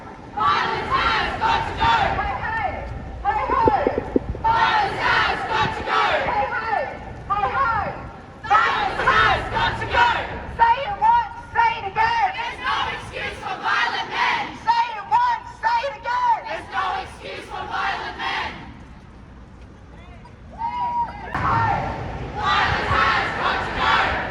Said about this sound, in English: it's a small crowd